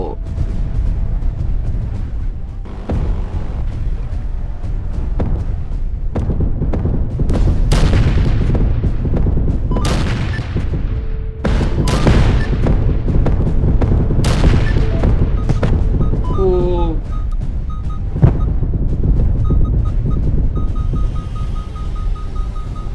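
Gunfire and explosions in the video game Engines of Destruction: repeated sharp shots and heavy booms crack out across a continuous battle din, some close and loud, others farther off, with brief faint speech.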